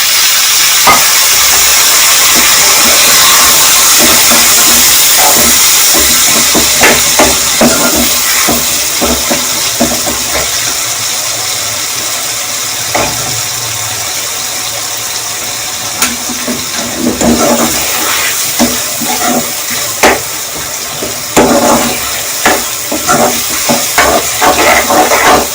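Two tomatoes frying in beef curry masala for aloo gosht, a loud continuous hissing sizzle with steam, broken by scattered stirring scrapes and clinks throughout.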